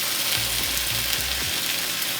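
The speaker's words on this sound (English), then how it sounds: "I'm just frying it dry" Steady, dense sizzle of saltfish frying in a dry pot without oil, with a few low scraping thuds of stirring underneath.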